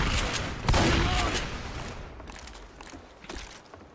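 Shotgun firing in the video game Left 4 Dead 2, several sharp blasts in quick succession with a decaying crackle after each, mixed with game noise and fading toward the end.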